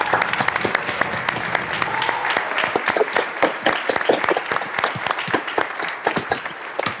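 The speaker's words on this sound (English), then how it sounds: "Let's give them a round of applause." Applause filling a state legislative chamber during a Colorado House session, many hands clapping in a dense, sustained burst at moderate distance, with faint voices underneath.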